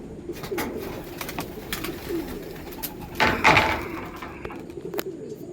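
Pigeons coo in soft, low rolling calls close by, with faint background rustle and a brief louder burst of movement midway, and no speech.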